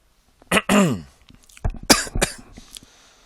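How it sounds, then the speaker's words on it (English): Two bursts of harsh, close coughing from a person getting over flu, separated by a short pause, the second a cluster of several rough coughs, with silence around them. "Sorry, I'm coughing a bit."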